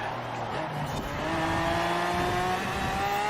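Cadillac Escalade engine in Forza Horizon 4 racing around a lap, a steady loud roar with rising gear-change whines as it accelerates, continuous and close.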